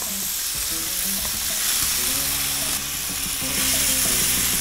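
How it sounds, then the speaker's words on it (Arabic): Loud, steady sizzle of grated garlic and pre-fried vermicelli noodles frying in a pan, with scraping stir strokes and clinks breaking through the continuous crackle. "كنقليهم واحد شويه"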